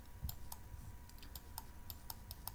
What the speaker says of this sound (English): I do apologize if you guys hear my new mouse click